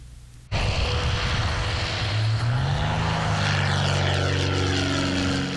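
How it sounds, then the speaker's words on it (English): A propeller plane swoops low to snatch an advertising banner, its engine roaring in abruptly and then holding a loud, steady drone with a gently shifting pitch as it passes close overhead. "The plane snatched that banner in the blink of an eye."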